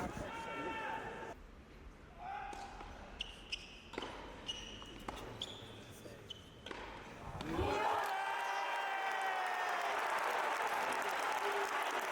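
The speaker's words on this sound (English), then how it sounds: "The Italian crowd were incredible throughout the whole match, but at this point in the second set, things really heated up, as Jannik had a chance to break Novak back." Applause and cheering from an Italian crowd at a tennis match in the ATP Finals in Turin, scattered claps and thuds at first, then a sustained loud burst of clapping and roaring from the arena.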